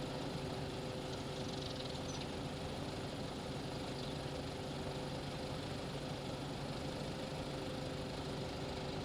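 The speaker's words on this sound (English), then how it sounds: "let's get back into the glass tractor once again, and slowly and steadily we are gonna move towards our" A glass-cab tractor engine running steadily while heading slowly toward a field, a constant close droning hum with a low vibrating rumble and no talk over it.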